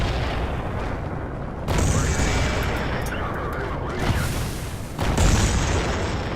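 Several artillery shells striking in World of Tanks, heavy booming impacts in quick succession amid constant rumbling battle noise, loud and close.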